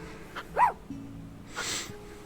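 A dog in the video game Tchia gives a short bark and a whimpering yip, fairly close, among quiet game ambience and soft noises.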